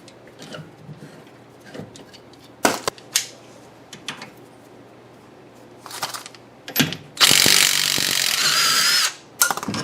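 A ratchet working on the tie rod end of a Lexus IS300 front suspension: scattered sharp clicks and metallic knocks, then a loud steady whirring burst lasting about two seconds, close by, with no talking.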